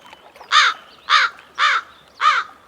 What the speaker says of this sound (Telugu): ఏంట్రా ఆ కాకి చావు చావు నరుస్తుంది?